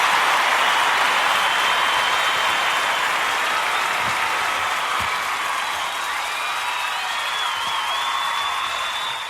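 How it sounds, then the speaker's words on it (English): A live show audience gives a sustained round of applause, a dense, steady wash of clapping at even loudness throughout, with faint cheering mixed in. "round of applause"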